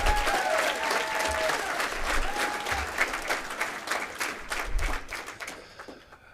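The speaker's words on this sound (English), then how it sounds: "Let's have a round of applause for your ag teachers." An audience at the Montana FFA State Convention claps in a sustained round of applause from a large crowd, dense and steady before fading out near the end.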